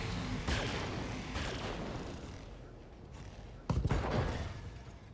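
Mech weapons fire in BattleTech, several heavy thumping volleys of gunfire and launches with whooshes, with a sharper louder burst near the end, under faint voices.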